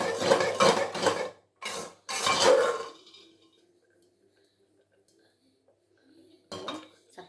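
Sakkarai pongal stirred in a pot, with loud metallic scraping and clanking of the spoon against the vessel in a few bursts, a quiet pause, then more scraping at the end.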